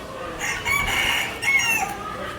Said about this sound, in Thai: มาหาเบิ่งไก่เขาก็สบายดีพี่น้อง